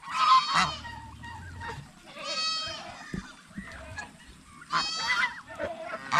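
Male turkeys call and squabble, harsh honking and bleating-like cries coming in separate loud bursts, close and repeated over several seconds with scuffling in between.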